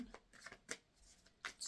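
Tarot cards being shuffled: a few quick, quiet riffling bursts close to the microphone, separated by short pauses, with faint talk underneath.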